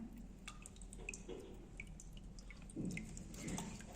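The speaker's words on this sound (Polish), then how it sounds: "Cały czas właśnie słyszymy, że woda nam tutaj skapuje." Water drips steadily from freshly pulled handmade recycled paper as it is set aside to drain, a run of small, close, faint plinks over a soft background.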